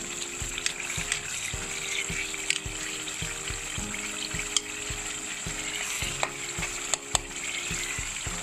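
Minced meat (qeema) fries in a pot for qeema daal khichdi, a steady close sizzle with a regular rhythm of spoon strokes scraping and clinking against the pot.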